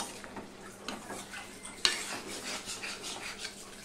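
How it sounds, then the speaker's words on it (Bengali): A spoon stirs a Bengali vegetable curry in a pan, soft scraping and rubbing strokes over a low simmer, with one sharp clink of metal on the pan partway through, quiet and close. "সম্পূর্ণটা মিশিয়ে দিচ্ছি"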